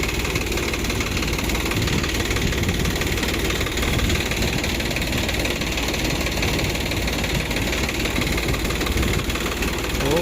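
A tractor engine drives a fan for winnowing paddy, a loud, steady, close mechanical drone with a constant low rumble and vibration throughout.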